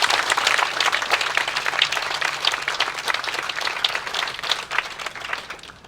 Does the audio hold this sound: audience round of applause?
yes